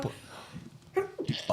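A person sneezes during a casual podcast conversation, a short sharp burst close to the microphone, with other people talking just before and after it.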